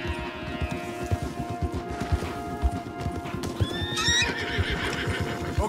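In a Wild West video game, horses clip-clop steadily along a path with repeated hoof thuds, and one or two whinnies rise near the end, close and clear.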